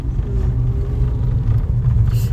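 A car drives along toward Madayi Kavu, a steady low engine and road rumble heard from inside the vehicle, even and continuous throughout, without speech.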